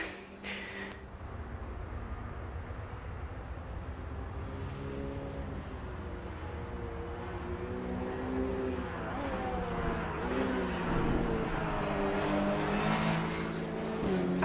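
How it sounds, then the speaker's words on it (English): Racing engine of a GT2 car in Assetto Corsa EVO, a deep, bassy continuous drone that rises and falls through gear changes and revs, loud and steady with no talk. "Really low sounding, just bassy sound as you would expect from this."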